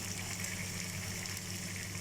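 Chicken with tomatoes and green chillies frying in a pan over a medium-low flame, a steady faint sizzle and crackle running evenly throughout with no talk.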